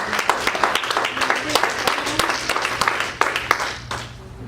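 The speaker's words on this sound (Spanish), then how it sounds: "Denle palmas al Señor." A church congregation claps together in a steady rhythm of dense handclaps, loud and close, with voices mixed in throughout.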